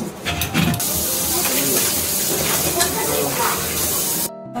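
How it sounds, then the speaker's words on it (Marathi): Steady broadband rush of running tap water while dishes are washed after a festive home meal, continuous and close throughout with faint background voices, cutting off abruptly near the end. "आता मी भांडी घासून घेणार आहे।"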